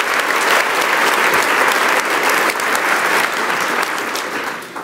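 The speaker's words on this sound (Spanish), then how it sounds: "Y déle otro aplauso a su Dios con todo su corazoncito bonito" A church congregation claps steadily and loudly together, a dense sustained wash of applause that holds for several seconds with no break.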